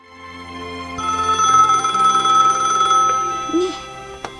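A telephone rings with a steady electronic trill that swells and holds for a few seconds, then fades out, heard close and clear in an indoor residence.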